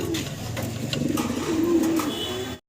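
A pair of pigeons for sale coo close by, with soft, low, rolling calls that rise and fall over a few seconds, then cut to silence at the end.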